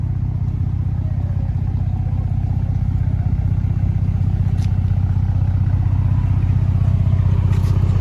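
A Ford EcoBoost truck with a straight-piped exhaust idles steadily nearby, giving a loud, low, even rumble that stays constant for the whole stretch without any speech.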